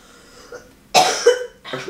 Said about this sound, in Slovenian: Pa nekaj kašlja, no!